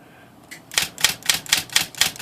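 A Smith Corona electric portable typewriter hammers out a quick run of sharp, evenly spaced strikes, about eight in a row, close and crisp, at varying impression settings.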